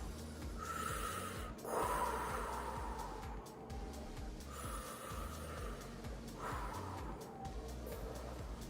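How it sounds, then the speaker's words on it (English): A person breathes slowly in and out through a dropped jaw and pushed-out lips in a voice-deepening exercise, with two soft audible breath cycles, quiet and close. "Breathing in and out like this."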